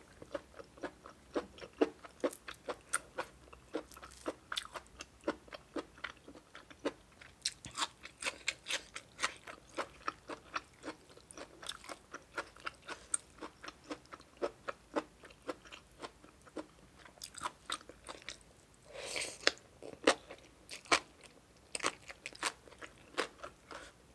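Crispy blanched beef tripe crunches loudly between the teeth, a dense run of sharp, close chewing bites repeating steadily with no talking.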